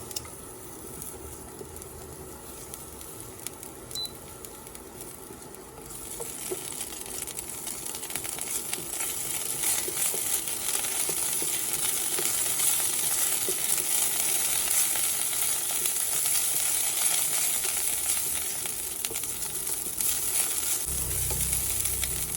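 Onions dropped into hot oil in a pan, sizzling for sweet and sour tilapia, a quiet start swelling into a loud, steady, crackling fry with occasional stirring scrapes.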